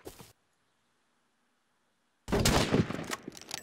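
Gunfire in the video game Rust: a brief sound cuts off into near silence, then a loud, dense burst of shots erupts suddenly and continues to the end.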